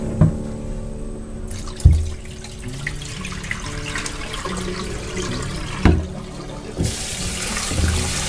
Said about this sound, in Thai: ตรงนี้นี่ก็คือให้เราล้างจนหมดคราบแป้งก่อนนะคะ